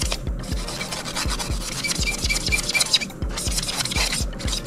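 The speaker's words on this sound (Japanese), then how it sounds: "ちょっとこうやってヤスリがけ軽くね" Light hand sanding with a melamine sponge on a model's painted surface before a urethane clear coat, a steady soft rubbing rasp in quick regular back-and-forth strokes, close and alone with no talk.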